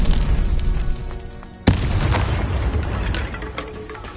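A Confringo blasting spell goes off in a Hogwarts video game, one sharp, loud boom landing partway through and trailing into a rumbling, crackling decay over a low, steady background.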